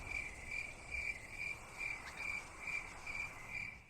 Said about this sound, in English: Now, imagine just hearing crickets here.